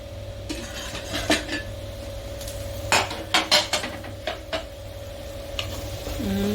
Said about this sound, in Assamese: মছলা ভুনা হৈ গৈছে